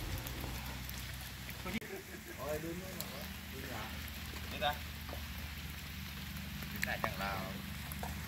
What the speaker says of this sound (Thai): ฝนตกๆแบบนี้